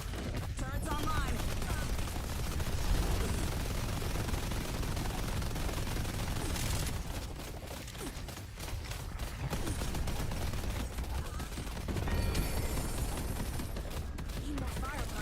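Turrets in the Deadlock video game keep up dense, continuous automatic gunfire through a busy battle mix. The rattling volleys are loud and unbroken, with other combat noise layered around them.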